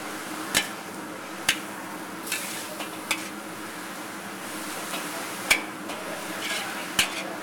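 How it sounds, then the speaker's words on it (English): Shredded cabbage wilts in a hot pan as a utensil stirs it. A soft, steady sizzle runs underneath, broken by a few sharp scrapes and taps against the pan, with no talking. "All we want to do is combine them, wilt the cabbage slightly"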